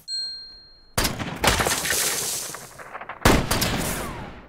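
Sniper rifle gunfire in a Jack Reacher movie showdown, a faint high tone giving way to a loud sharp shot and a noisy sustained echo, then a second sharp report near the end.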